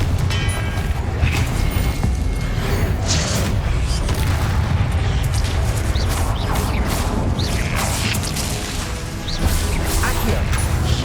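A Confringo blasting spell goes off in the Hogwarts Legacy video game, giving dense, continuous booming and crashing impacts layered with game effects and a spoken spell incantation throughout.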